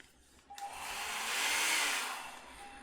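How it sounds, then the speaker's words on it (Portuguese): A hair dryer switches on with a click and whooshes up into a steady airy roar while drying a sculpted polymer clay figure, its whine swelling then easing slightly, close and alone without talk. "Mas eu vou passar o secador aqui."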